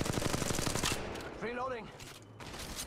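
Automatic weapon fire in Apex Legends, a fast burst of close shots that stops abruptly, followed by a brief ringing, warbling game effect and fainter background noise.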